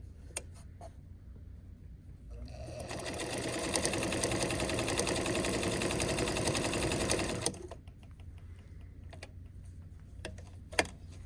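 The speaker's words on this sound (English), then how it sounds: "let's sew on this machine" A Wizard sewing machine runs a stitch in one steady burst of about five seconds, its rapid mechanical whirring close and clear, framed by quieter handling clicks before and after.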